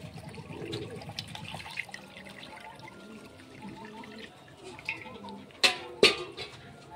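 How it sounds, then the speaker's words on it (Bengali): Water is poured and strained through a sieve while preparing pigeon feed, giving soft trickling and splashing close by, then a couple of sharper splashes near the end. "তো চলুন আমরা এবার ছেঁকে নিই, কারণ দানাগুলো যাতে জলের সাথে না চলে যায় ওই জন্য আমরা ছেঁকে নিচ্ছি।"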